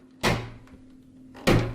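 A bathroom door in a house shuts twice, two sharp close thuds about a second apart with a faint hum between them and no voices.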